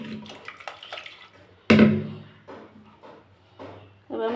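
Water is poured into a pressure cooker holding mutton, a short splash and gurgle that rises suddenly and then tapers off, with quieter kitchen handling sounds before and after.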